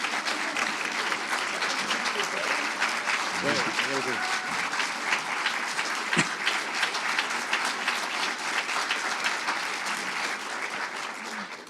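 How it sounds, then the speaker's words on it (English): An audience at a film screening gives a standing ovation, broad continuous clapping throughout, with a few voices and a brief call rising over it partway through. "The reason I'm taking a photo of the standing applause"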